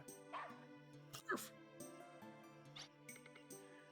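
Puppy in the video game Wild ARMs 2 giving synthesized yips and short barks several times over game music, with a few whimper-like notes.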